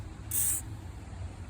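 A single short burst of WD-40 hisses from a spray nozzle onto a gun being cleaned, a sharp close-up spritz lasting about a third of a second against a quiet background.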